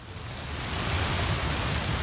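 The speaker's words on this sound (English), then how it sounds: "even if it is raining" Steady rain falling around a lake, a dense broadband hiss of drops on surfaces that swells slightly and then holds constant, with no voices.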